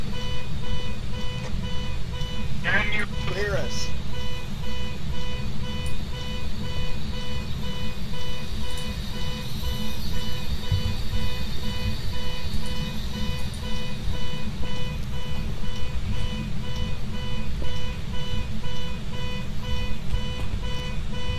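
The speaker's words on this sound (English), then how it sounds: "God, I hate that car alarm." A car alarm in the video game Phasmophobia drones on with continuous, evenly repeating electronic tones layered over a low rumble, steady and loud throughout, and a voice asks a short question partway through.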